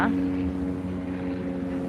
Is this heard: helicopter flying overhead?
yes